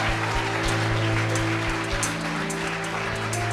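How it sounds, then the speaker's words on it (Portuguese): A family applauds in a church service, steady clapping under a constant low hum and music. "Você pode olhar para trás aí que tem uma família aí te aplaudindo aí."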